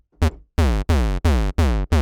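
A harsh, buzzy synth bass plays a short run of loud, clipped notes with gaps between, its tone thick and heavily saturated.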